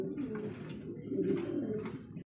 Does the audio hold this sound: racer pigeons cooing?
yes